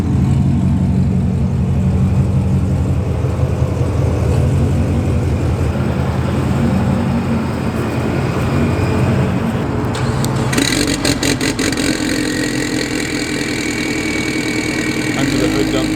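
A turbocharged Mitsubishi Evo X with a large Sidewinder-kit turbo runs on a dyno, a loud, steady engine drone filling the whole stretch, with a harsher, louder burst partway through.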